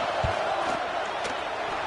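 Steelers football stadium crowd during a field goal attempt, a steady, dense roar of many voices filling the space, with a broadcast voice faintly over it.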